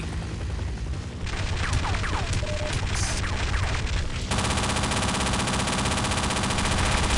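Sustained automatic gunfire from an enemy shooting in a Half-Life mod, a loud, dense rattle of rapid shots that carries on without a break, with a harsher, steadier burst taking over partway through. No one speaks.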